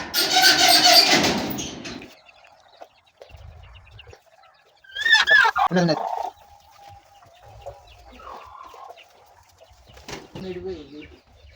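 Chickens cluck and squawk in short bursts, with a loud flurry at the start and a few scattered calls after, separated by quiet gaps.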